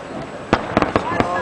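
Fireworks exploding over Brooklyn rooftops on July 4th, 2008, a quick run of four or five loud sharp bangs a fraction of a second apart, heard amid a lively background of people talking.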